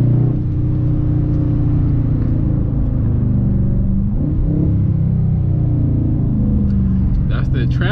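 Dodge Charger or Challenger with the active exhaust deleted, in track mode, rumbling loud and steady with low revving throughout, under constant cabin noise, with a rise near the end.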